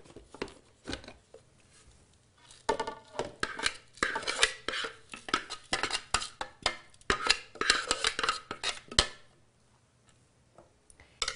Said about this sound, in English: we're going to stir these into our burgers.